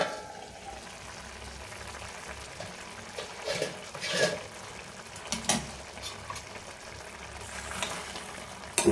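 Tomato chutney with salt frying and being stirred in a pan, a soft continuous sizzle with occasional scraping stir sounds and small clinks, fairly quiet throughout with no talk.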